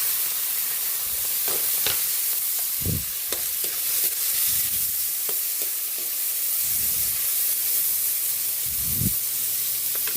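Onions and tomatoes frying together in a pot as the base for sinigang sa miso with barracuda: a loud, continuous sizzle and hiss, broken by the scrape and clunk of stirring every second or two, with no talking.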